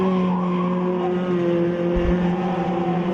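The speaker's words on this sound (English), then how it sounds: "He tries to close things down now on the race driver SA car of Alex Fast." Race cars scream around the track at the 2023 National Extreme Festival, Round 2: a loud, continuous, droning engine whine with a brief low thump partway through.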